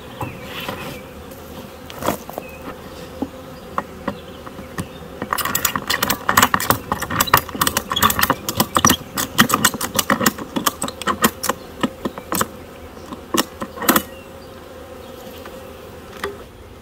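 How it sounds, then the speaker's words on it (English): A caught swarm colony of honey bees buzzing steadily in a strapped-up box fitted with a queen excluder, the low hum overlaid by frequent sharp clicks and knocks from handling, busiest through the middle. "The bees are still happy."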